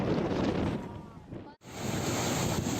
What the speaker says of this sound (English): he can still hear the wind and the suction